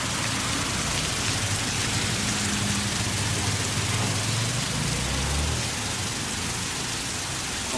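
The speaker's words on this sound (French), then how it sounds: "C'est la pluie à Carthagène." Torrential rain in Cartagena, Colombia makes a steady dense hiss that fills the whole clip, with a faint low engine rumble underneath.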